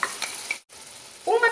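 Garlic and onion sizzling in a pan, a steady bright frying hiss with a brief gap, close and alone.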